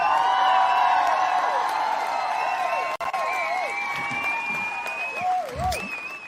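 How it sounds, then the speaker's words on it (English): A studio audience applauds and cheers to welcome a guest onto a podcast show, a steady wash of clapping with scattered whoops while a voice speaks over it. "thank you guys so much for the round of applause"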